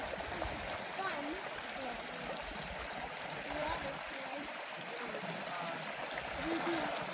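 Water rushes down a natural rock slide at Slide Rock on the West Fork Trail in Sedona, a steady splashing flow with occasional splatters under people talking nearby.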